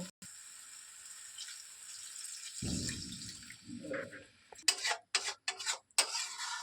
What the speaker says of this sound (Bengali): এবারে গরম করে রাখা জল এতে আমরা দিয়ে দেব।